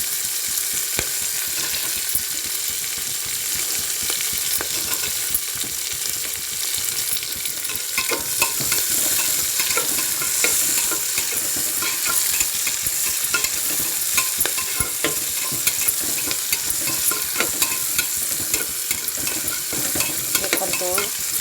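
Onions fry in a pan while being stirred, with a steady loud sizzle and frequent scraping stir strokes running throughout, no voices.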